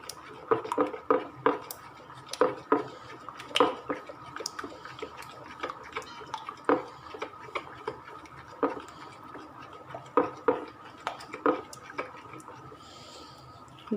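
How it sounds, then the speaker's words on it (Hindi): Eggs being whisked in a bowl for a quick no-knead anda paratha, quick irregular clinks and taps of utensil against the bowl, fairly quiet, with someone speaking at times. "अब अंडे को मैं मिक्स कर लूँगी अच्छे तरीके से।"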